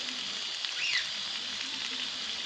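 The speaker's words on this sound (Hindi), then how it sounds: "इसी को मैं मिक्स कर लेती हूँ ताकि हमारे जो प्याज है उसके साथ आलू भी पक जाए।" Onions and potatoes sizzle steadily in oil in a pan while being stirred for a masala fish curry, a close, continuous frying hiss with a brief scrape of stirring.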